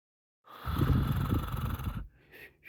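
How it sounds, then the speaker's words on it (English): A person snoring loudly, one long rough, rumbling breath that breaks off and is followed by a fainter second intake. "he is snoring like a horse"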